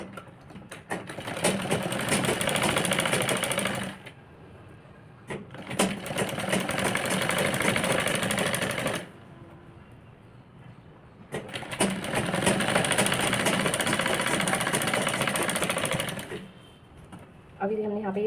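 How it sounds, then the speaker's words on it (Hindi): An electric sewing machine stitches along the edge of fabric for a girl's crop top, whirring in three long bursts of several seconds each, separated by short quieter pauses. "अभी हमने यहाँ पे ये सिलाई लगा लिया।"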